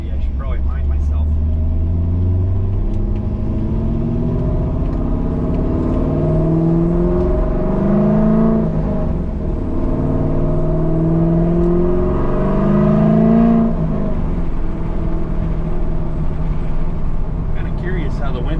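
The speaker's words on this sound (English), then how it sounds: "Kind of curious how the wind noise is on this." A C5 Corvette drives with its windows down, giving a continuous loud rumble of wind buffeting and engine drone with gentle swells in pitch as the car speeds up and slows.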